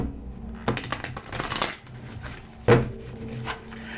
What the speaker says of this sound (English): I just really feel I gotta shuffle it good.